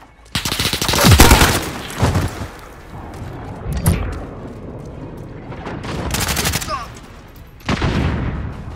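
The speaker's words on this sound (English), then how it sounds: "Friendly sentry gun online." Rapid bursts of automatic gunfire ring out in a Call of Duty Modern Warfare match, one stretch of shots close together followed by further volleys and heavy thumps at intervals.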